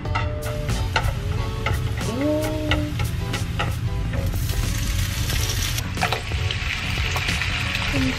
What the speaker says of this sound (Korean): 기름을 넉넉히 두르고 아까 썰어준 파들을 다 넣습니다